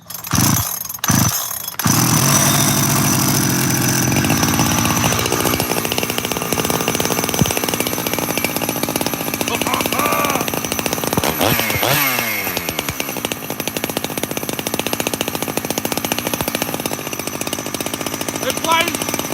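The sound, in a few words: big bore chainsaw engine running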